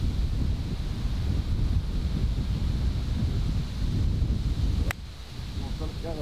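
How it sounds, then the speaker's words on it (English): Steady wind on a golf course at Budock Vean in Cornwall buffeting the microphone with a roaring rumble throughout, briefly dropping near the end; no clear talk. "It's quite windy"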